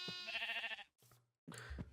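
Sheep bleat in a Minecraft-style blocky video game, a clear wavering baa followed by two shorter bleats, faint overall and with no talk.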